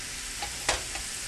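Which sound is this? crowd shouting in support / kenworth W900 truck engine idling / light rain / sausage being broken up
sausage being broken up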